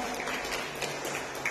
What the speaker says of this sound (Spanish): ese fuerte aplauso para mamita María